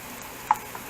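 The white part of chopped green onion fries in a pan, a faint steady sizzle with one small sharp tick from stirring.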